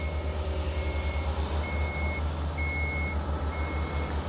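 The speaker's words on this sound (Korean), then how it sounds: "25도 또 덤프차가, 아, 들어오고 있습니다" A 25-ton dump truck hauling soil to an earthwork site sounds a steady reversing beeper in regular spaced pulses. A loud, constant diesel engine rumble underlies the beeps.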